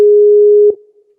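A telephone ringing tone heard through a headset on an outgoing call: one steady, loud, clean tone held for about two-thirds of a second, then cut off abruptly with a faint fading tail.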